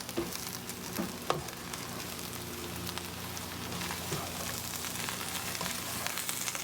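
Roast beef hash with eggs fries and is stirred in a pan, giving a soft, steady sizzle with occasional scraping clicks from the utensil, fairly quiet and close, with no talking.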